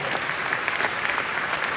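Audience applause at New York City Mayor Eric Adams' address on his first 100 days, a steady, dense wash of clapping from a crowd that holds at even loudness for about two seconds.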